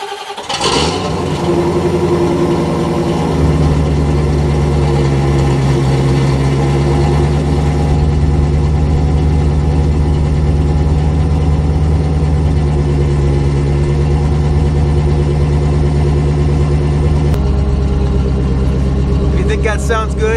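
A C4 Corvette engine catches on a cold start and settles into a steady, loud idle, a continuous low rumble with an even tone that holds close to the listener for the whole stretch.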